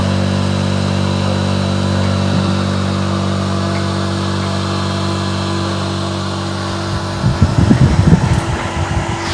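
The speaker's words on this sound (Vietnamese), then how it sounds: "Tắt cái quạt cho nó ồn quá." A small cooling fan on a two-channel power amplifier board hums with a steady, fairly loud whir, a constant tone throughout, with some brief rattling handling noise near the end.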